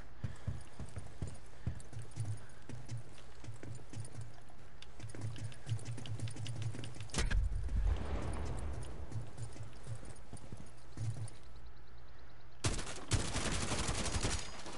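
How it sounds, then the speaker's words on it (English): Video game gunfire comes as rapid bursts of shots alongside rhythmic clopping footsteps, a loud broadband blast in the middle, and a harsh burst of noise near the end. "Yo, stop shooting at me."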